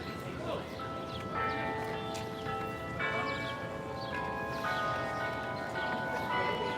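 Bells of the Delacorte Clock in Central Park, New York City, chime a tune of struck tones with long ringing overtones, fairly close and clear above a steady outdoor crowd murmur with voices in the background.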